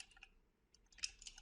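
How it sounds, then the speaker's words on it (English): Light typing on a computer keyboard while building a product page, heard as faint, scattered clicks and short bursts of keystrokes alone in a quiet room. "I'm just typing"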